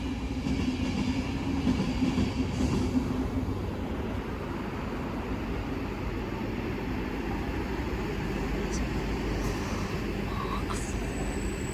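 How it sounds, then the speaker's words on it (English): Transport for Wales Mark 4 train set rolling past at a station, a steady loud rumble and wheel noise throughout with faint squeals, continuous and close. "It's one of Transport for Wales Mark 4 sets."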